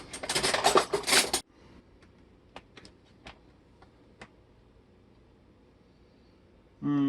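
Spoon and dishes handled for tasting homemade chocolate made from cocoa beans: a loud rustling burst at first, then several sharp, sparse clinks and taps close by in a quiet room.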